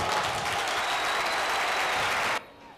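Córdoba football players and fans applaud at a stadium match near the end of the 2020-2021 season, a loud, dense wash of clapping and crowd noise that cuts off abruptly after about two and a half seconds.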